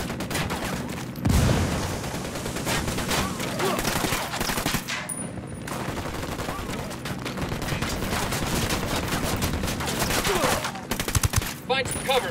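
Dense gunfire in the video game Ghost Recon Wildlands, continuous loud overlapping bursts and shots filling the whole stretch with brief gaps, heavy battle noise with voices faintly mixed in.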